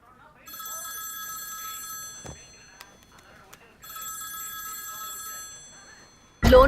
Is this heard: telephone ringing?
yes